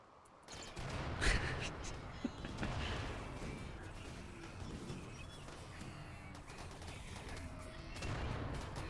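Explosions going off in the video game RimWorld, a series of muffled bursts and pops over a continuous rumbling bed, with a sharper blast near the start and scattered smaller thuds throughout.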